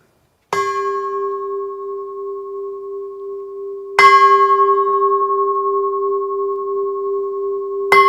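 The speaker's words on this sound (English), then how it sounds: "And we ring our bell 3 times." A single bell with a pure, sustained tone is struck three times to call a congregation together at a religious service, each strike ringing out alone and decaying slowly. The third strike comes right at the end.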